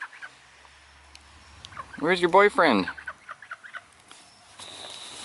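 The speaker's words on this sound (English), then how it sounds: "They follow us around the yard all day. They're the only birds we let out." Backyard fowl free-roaming a home yard give a burst of loud, rapid gobbling clucks at close range, followed by softer scattered clucks, with a person speaking briefly at the start.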